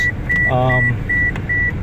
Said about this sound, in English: That beeping will quit in a minute.